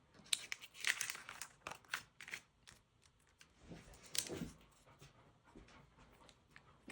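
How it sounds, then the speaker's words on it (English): Backing is peeled off an adhesive strip on a paper and acetate shaker card, close crinkly rustling and papery tearing in irregular bursts with quieter handling between, no talking. "you're going to peel off just one of the adhesive strips"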